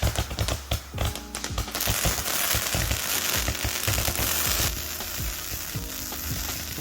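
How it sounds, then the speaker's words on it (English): Backyard Fourth of July fireworks crackle and sizzle continuously, with a flurry of sharp pops at first that settles into a dense hissing crackle; no voices. "And so that was this firework."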